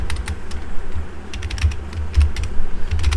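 Quick, uneven keystrokes on a computer keyboard while someone types Python code, a steady run of sharp clicks with a low hum underneath.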